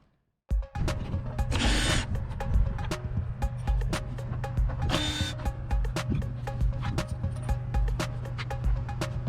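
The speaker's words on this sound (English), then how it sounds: "I've got to take these screws out that are right here on the top" A power driver removes screws from the shroud of a Coleman-Mach Airxcel RV air conditioner, producing a steady mechanical whir with repeated short clicks and two brief higher-pitched whining bursts, all close by.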